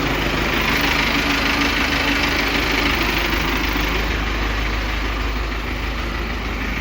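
An Arjun tractor hitched to a green trolley idles steadily at a farm weighbridge, a continuous low diesel rumble with knocking texture, close and even throughout, no talk.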